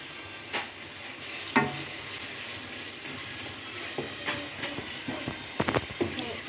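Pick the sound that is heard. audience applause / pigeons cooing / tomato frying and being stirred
tomato frying and being stirred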